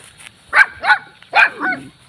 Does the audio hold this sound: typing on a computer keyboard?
no